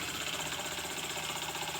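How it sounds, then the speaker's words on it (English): A small model steam engine runs with its pistons pumping in and out one at a time, giving a fast, even, faint mechanical chuffing rhythm that continues steadily without speech. "as the steam water comes out, it pushes those pistons one at a time, in, out, in, out"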